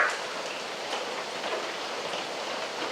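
Rain falls steadily outside, a continuous dense hiss of drops at even, moderate loudness with no talk over it.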